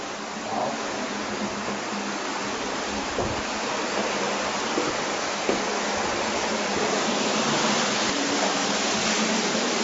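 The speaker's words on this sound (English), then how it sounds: "the waters of the Gihon Spring are still flowing" Water of the Gihon Spring flows steadily, a dense, even rushing wash that stays constant and close with no voices.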